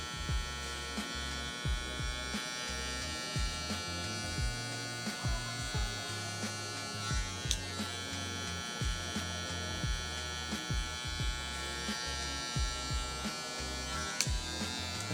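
Electric hair clipper buzzing close up while fading a low taper haircut, a steady hum broken by short, repeated strokes as the blades pass over the hair.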